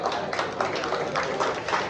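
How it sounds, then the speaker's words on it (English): Steady applause from an audience at a regular-season sports awards presentation ceremony, a dense continuous patter of clapping filling the whole moment with no gaps. "It's a big applause for everyone."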